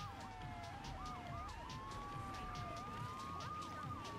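Wailing police car sirens in GTA III The Definitive Edition, several overlapping up-and-down sweeps held steady and loud over a low rumble of traffic and engines, with no talking.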